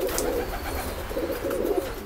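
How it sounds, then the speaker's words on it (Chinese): An aggressive young pigeon guarding its perch gives low, throaty coos in two close bursts, with faint background noise and no talking. "很凶的一只小鸽子，咱们试一下，你看。"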